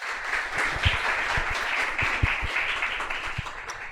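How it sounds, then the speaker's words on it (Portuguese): An audience applauds after a lecture on Christianity and Brazilian culture, a continuous moderate clapping with a few louder thumps standing out close by. "mais uma salva de palmas para ele, por favor"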